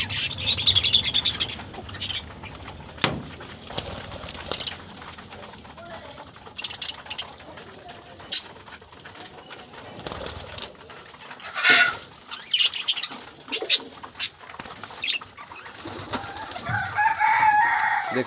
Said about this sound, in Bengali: দেখতে থাকুন পাখিগুলো